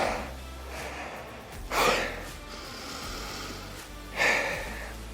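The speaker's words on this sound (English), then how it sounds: "A couple big breaths" After a home workout set, two big, close breaths come through: a sharp, gasping inhale and a heavy exhale, spaced a couple of seconds apart over a low background rumble. No one speaks.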